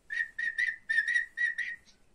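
A series of short, bright whistled notes from a mouth, about seven in a quick rhythmic pattern, close and clear, with no talking.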